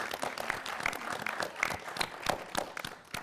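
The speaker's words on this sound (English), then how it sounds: "Let's have a big round of applause for all of our amazing competitors." A school quiz show audience claps steadily for the competitors, a dense patter of many hands at moderate volume, with a few louder claps standing out.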